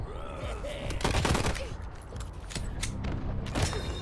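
Wasteland 3 combat gunfire against a giant spider robot, a cluster of sharp shots in a loud flurry followed by scattered mechanical thuds and further reports.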